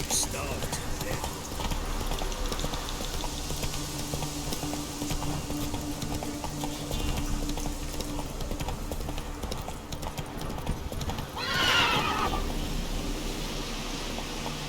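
Roach, a horse in The Witcher 3, clip-clops along at a steady run with rhythmic hoofbeats throughout, while voices talk over the top.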